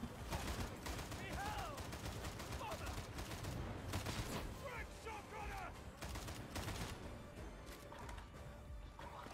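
Dense gunfire and bursts of shooting from a sniper-filled firefight in Warhammer 40k Darktide, loud and continuous, with scattered chatter and game voices mixed in throughout.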